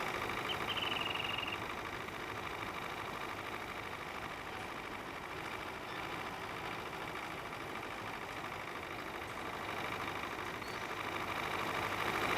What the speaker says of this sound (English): Still a pretty cool little tractor.